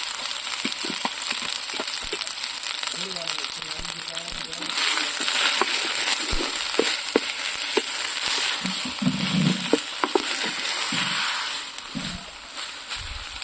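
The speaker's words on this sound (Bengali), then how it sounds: "একটু আদা রসুন বাটা দিচ্ছি, একটু পেঁয়াজ বাটা দিচ্ছি, মাছগুলো দিয়ে দিচ্ছি।" Rohu fish pieces sizzle steadily in hot oil with ginger-garlic paste and onion paste, a broad continuous frying hiss with scattered pops and spatula scrapes, and some background voice at moments.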